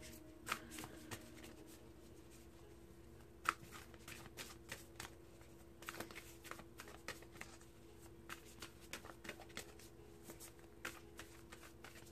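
Tarot cards being shuffled close up, with a soft continuous riffling broken by small crisp snaps and taps as the deck is handled. The shuffling is quiet and there is no talking over it.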